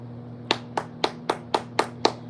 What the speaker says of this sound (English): we're gonna clap for y'all this morning